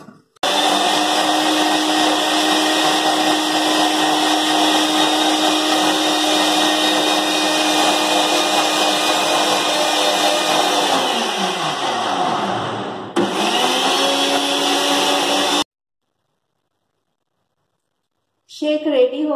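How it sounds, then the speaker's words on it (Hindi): Electric kitchen grinder blending mango, milk and sugar into a shake: a loud, steady motor whine that winds down, restarts briefly and cuts off, followed by silence and a short clatter. "अभी मैं 2 स्पून चीनी ऐड करूंगी मैंगो शेक बनाने के लिए. और ग्राइंडर में ग्राइंड कर लूंगी."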